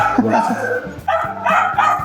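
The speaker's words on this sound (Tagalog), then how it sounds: "Ang cute ng kahol niya, no?" A small two-year-old dog at a pet shop gives a series of short, high, yappy barks up close, loud and repeated in quick bursts, with some background chatter.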